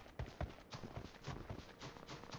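Horse hooves clip-clop in PUBG Mobile on the Vikendi map, a steady run of soft, rhythmic thuds that carries on through the whole stretch with no voices.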